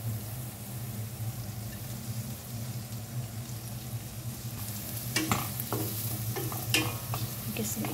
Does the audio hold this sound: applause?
no